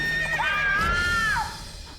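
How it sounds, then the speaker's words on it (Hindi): A horse gives one loud, close whinny that rises and wavers for about a second before falling away, followed by quieter background noise. "गुंजा का घोड़ा"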